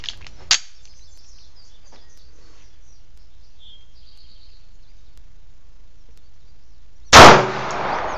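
Two shots from a Rock Island Armory 1911 pistol at a shooting range: a faint sharp crack near the start, quiet ringing, then a louder close blast near the end.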